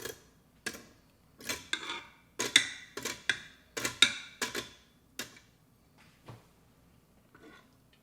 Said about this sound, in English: So what I do is just kind of use a little fork and just sort of scrape them off here.